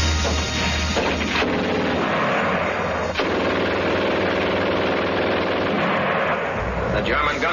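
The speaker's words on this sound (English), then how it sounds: "The German gun shoots fast." A German machine gun fires fast, unbroken bursts, loud and close on an old vintage recording, with a low engine-like drone underneath.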